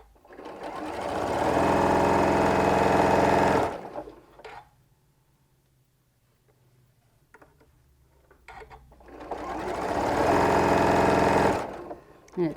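A sewing machine stitches stretchy fabric cut for a Martelli survivor template set, in two long steady whirring runs at close range separated by a quiet pause with faint handling noises.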